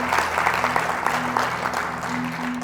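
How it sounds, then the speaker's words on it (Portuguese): A congregation at a church service in Campo Grande, Brazil, claps in steady sustained applause filling the room, a dense even patter held throughout with a low hum beneath. "dê um aplauso ao Senhor."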